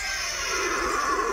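A horse at a livestock expo gives a single drawn-out neigh, a bright wavering whinny that carries steadily over a noisy background without speech.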